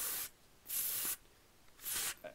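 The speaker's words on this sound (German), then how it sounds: "Haben Sie mich gerade eingesprüht?" Three bursts of spray paint from a can in the Arma 3 Altis Life video game, each hiss lasting about half a second with quiet gaps between, close and clear with no talking.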